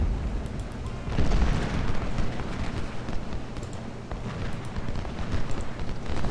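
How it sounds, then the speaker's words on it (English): Artillery fire in Ultimate General: Civil War at the Battle of Shiloh, with a continuous rumble of distant cannon booms and crackling musketry rolling through a steady battle din, no voices. "Try to fire at the reserve corps with the artillery"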